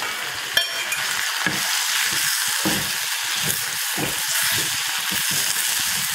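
Thuthuvalai leaves sauté in hot oil in a pan, giving a continuous close sizzle broken by repeated scraping stirs of a spoon.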